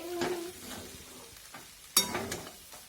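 Onion poha is stirred and fried in a pan, with soft, repeated spatula scrapes over a gentle sizzle and one sharper metallic clink near the end, heard close and quiet.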